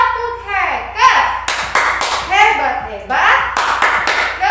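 Kindergarten children and a teacher perform a rhythmic tepuk clapping game: crisp patterned hand claps in quick bursts, close and loud, mixed with a lively sing-song chanting voice throughout.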